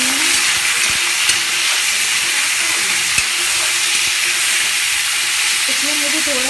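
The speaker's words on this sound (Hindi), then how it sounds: "ओनियन को भी हमें गोल्डन ब्राउन फ्राई करना है।" Onions frying in oil toward golden brown for mushroom masala, a loud steady close sizzle and hiss with a couple of small clicks from the pan.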